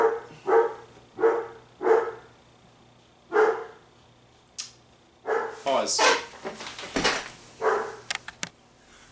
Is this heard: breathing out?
no